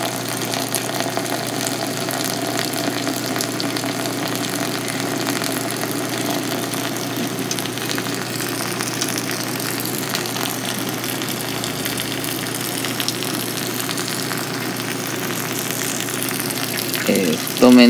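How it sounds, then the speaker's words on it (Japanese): Hot water is poured in a thick stream from a kettle onto ground coffee for drip brewing, making a continuous, even rushing hiss that stays steady and close for the whole stretch. "はい、じゃあ、高い位置からお湯さしましょう。"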